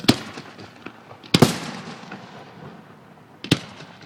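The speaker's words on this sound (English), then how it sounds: "Is it a real light up shotgun? Fireworks." Fireworks bursting at Bridgewater College, three sharp booms spaced out over a few seconds with fainter pops and crackles in between, moderately distant and echoing outdoors.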